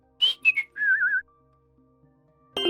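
The iconic train whistle from the LEGO LOCO video game loading screen, heard as a short series of clean whistled notes: two quick toots, then a longer warbling tone, with a sharp new sound cutting in near the end.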